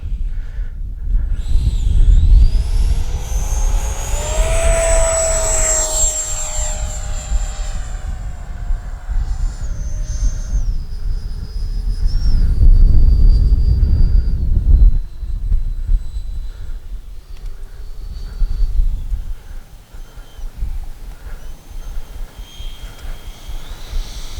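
An FMS Futura 80mm electric ducted-fan RC jet coming in to land without flaps on a windy day, a whining turbine-like roar that rises and sweeps in pitch as it passes, then settles lower, loud and steady with no talk.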